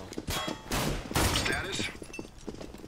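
Rapid gunfire crackles in a Counter-Strike: Global Offensive match, several sharp, loud shots in quick succession at close range, with someone speaking over the shots.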